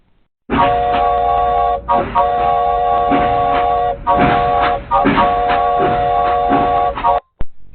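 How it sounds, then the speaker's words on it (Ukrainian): A steady, loud mechanical rumble with sustained tonal hums and rhythmic clacking, like a train passing close by, with brief dips between stretches. "Так, це звук потягу."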